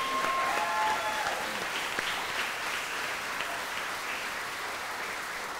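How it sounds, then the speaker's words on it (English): Audience applause at a film festival awards ceremony, a steady wash of clapping from a large crowd, fairly distant and even throughout, with a few whistles near the start. "let's all just give her a massive round of applause"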